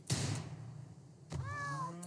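A cat in the RimWorld video game gives two short meows, the second longer and more tonal, after a soft thump, heard close and alone without speech.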